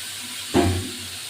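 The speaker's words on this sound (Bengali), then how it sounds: "এবার ঝিঙে আর আলু দিয়ে একটুখানি ভাজবো।" Pieces of ridge gourd and potato drop into hot oil seasoned with nigella seeds, setting off one sudden close sizzle burst that hisses briefly and fades within about half a second.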